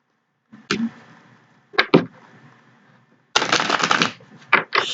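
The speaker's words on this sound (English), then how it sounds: "Shuffle." A Thelema Tarot deck is shuffled close up in quick riffling bursts: two short snaps, a paired flutter, then a longer dense riffle and a final brief burst, separated by quiet, with no talking.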